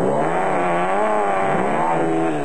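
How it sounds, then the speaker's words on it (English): Aging two-wheel-drive Ford Cortina rally car at an off-road race in South Africa, its engine labouring loud and close in a steady, wavering strain as it struggles up a steep incline. "The aging two-wheel drive Ford Cortina just couldn't make its way up the steep incline."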